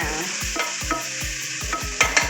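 A vadukapuli lemon pickle mixture is stirred in hot oil, with a spoon scraping the pan in a quick regular rhythm over a continuous close sizzle, the strokes growing sharper toward the end.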